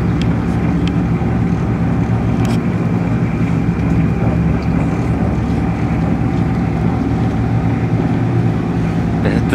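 Steady drone of a boat engine on a tourist boat ride in Hiroshima, continuous and fairly loud with wind buffeting the microphone throughout.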